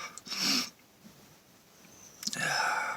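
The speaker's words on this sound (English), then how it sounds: "induced sneezing with pepper" A person sneezes twice after inhaling pepper: two sharp, close bursts about two seconds apart, with quiet breathing and sniffing between them.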